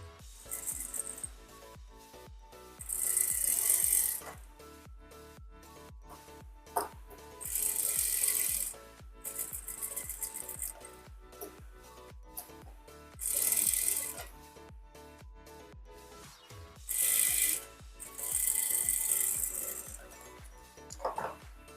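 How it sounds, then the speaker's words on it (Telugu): A sewing machine stitches a hem in short repeated runs, each burst a few seconds long, broken by pauses filled with quieter mechanical clicks and fabric handling. "ఇలా మనం స్టిచ్ చేసుకొని హెమ్ చేసుకున్న తర్వాత"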